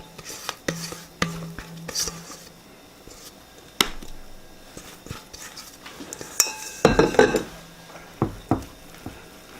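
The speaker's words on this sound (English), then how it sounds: "take your batter and put it in your prepared pan" Blondie batter scraped and spread into a prepared baking pan: scattered scrapes, clinks of a utensil against the pan and a cluster of busier knocks near the end, with quiet gaps between.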